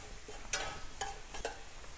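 Mushroom stir-frying in a pan with a pinch of salt gives a quiet sizzle broken by three or four brisk scraping strokes of a utensil against the pan, close and fairly soft.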